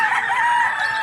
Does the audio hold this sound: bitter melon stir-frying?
no